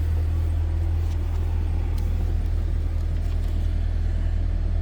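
A 2023 Cadillac Escalade ESV V-Series engine's steady low rumble idles evenly without revving, close and constant for the whole stretch.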